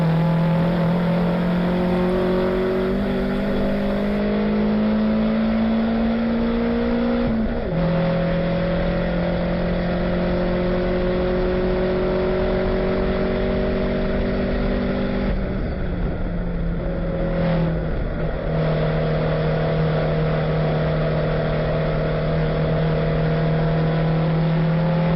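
A touring car in the 2011 United States Touring Car Championship is heard from the onboard camera at race speed, its engine note climbing steadily through each gear, with brief dips at shifts around the eight- and seventeen-second marks.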